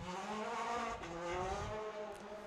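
A Skoda AP4 rally car, car number 8, drives a gravel stage in Ashley Forest, its engine note rising and falling through gear changes, heard from a distance over steady background noise.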